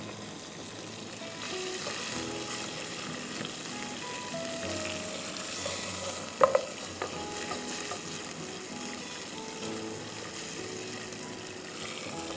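Ginger beef karahi sizzles and fries steadily in a pan, a soft continuous crackle with an occasional clink of a utensil, heard alone without talk.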